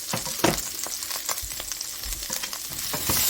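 Salisbury steak fries in bacon fat while being stirred, a close sizzle with scattered pops and repeated scraping strokes of a utensil against the pan, moderately quiet and without speech.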